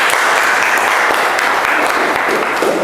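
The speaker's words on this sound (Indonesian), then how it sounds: "Berikan tepuk tangan untuk kelompok ini." A classroom audience at a sociology teacher-training session claps for a student group, steady dense applause, loud and close throughout.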